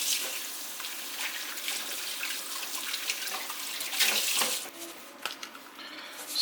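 Water runs from a kitchen tap in a steady hiss while hands are washed, with small splashes and clatters near the end.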